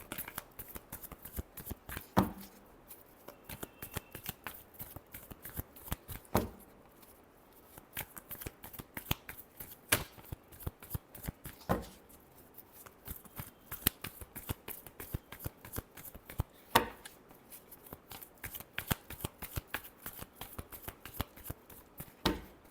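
Tarot cards being shuffled by hand, a steady run of quick crisp riffling flutters repeated close up for the whole stretch, with short gaps between bursts and no talking.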